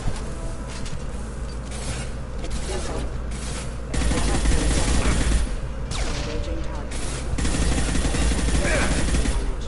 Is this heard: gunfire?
yes